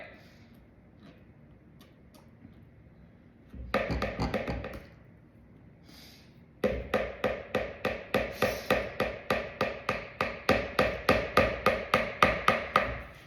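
Rapid tapping while assembling a strawberry Napoleon pastry, knocking food off a utensil: a short burst of taps, a pause, then a long steady run of about twenty evenly spaced, close, crisp knocks.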